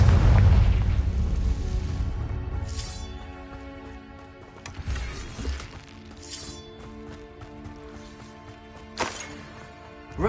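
Magical Bombarda and Confringo spell blasts in the Hogwarts Legacy video game: a heavy booming explosion up front with a rumbling decay, followed by a few lighter bursts and pops, loud with no talking.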